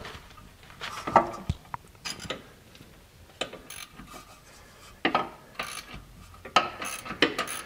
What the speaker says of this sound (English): notice I'm using the ratchet all out the same side. I'm getting these all to break loose.